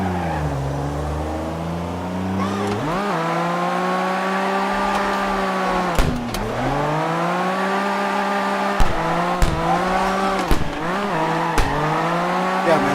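Engine roar from a drift car in CarX Drift Racing Online, rising and falling with revs and gear shifts, with brief bursts of tire squeal and clicks throughout, loud and continuous.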